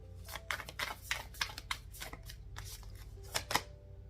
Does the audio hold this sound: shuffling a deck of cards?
yes